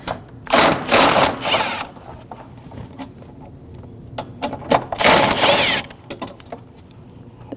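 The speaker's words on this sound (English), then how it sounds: "we're ready to undo these 3 bolts right here. 10mm socket" Power driver with a 10mm socket spinning out 6mm bolts from a Toyota 4Runner front bumper cover: several short whirring bursts with brief pauses and ratcheting clicks in between, close and loud.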